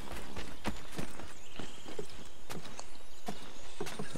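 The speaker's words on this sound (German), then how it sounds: "Und da haben wir dann ein Pferd." A horse in Assassin's Creed 3 clops along with a steady run of hoof beats over faint game ambience.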